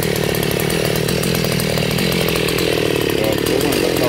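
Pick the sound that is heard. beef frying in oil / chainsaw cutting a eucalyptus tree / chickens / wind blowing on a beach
chainsaw cutting a eucalyptus tree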